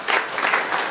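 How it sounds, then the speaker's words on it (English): An indoor audience at a forum claps together in a brief, dense burst of steady applause. "You can give him another clap if you want"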